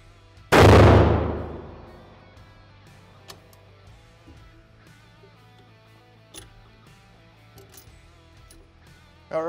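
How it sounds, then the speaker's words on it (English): A single loud rifle shot fired at a 25-yard indoor range, sharp and close with a long echoing decay, followed by quiet room tone and faint handling clicks. "We're gonna do a test fire on this just to make sure the chamber looks good."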